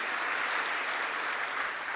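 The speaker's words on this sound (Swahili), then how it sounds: "Makofi." Dense, steady applause from a large audience at a Tanzanian government event, a continuous wash of many hands clapping at once that holds evenly for the whole stretch with no voices rising above it.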